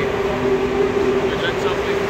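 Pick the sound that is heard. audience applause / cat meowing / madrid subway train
madrid subway train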